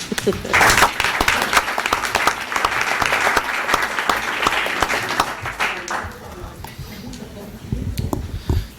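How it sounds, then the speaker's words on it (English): A school board meeting audience applauds Lincoln K-8 with dense, steady clapping for about six seconds, then the clapping thins and fades to a quieter patter before a brief swell at the end. Voices mix in lightly. "join me in applauding Lincoln K-8 for this"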